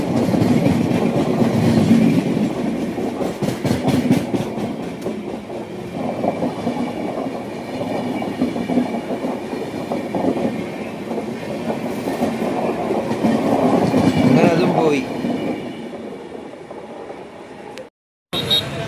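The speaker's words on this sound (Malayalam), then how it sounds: "നമ്മുടെ ട്രെയിൻ ഇവിടുന്ന് എടുത്തിട്ടുണ്ട്" The crowded Punalur–Madurai Express rolls along with a steady rumble and rhythmic clickety-clack of wheels over rail joints, heard loud from inside a general coach, then a brief dropout near the end.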